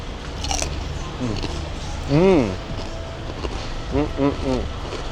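Fresh, still-warm pork rinds from a market in Chiang Mai, Thailand being bitten and chewed close up, with crisp crunches under ongoing talk and street background noise.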